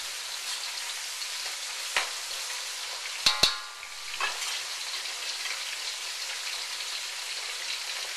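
Fresh string beans stir-fry in a hot pan with a steady, loud sizzling hiss, broken by a few sharp metallic clanks of the utensil.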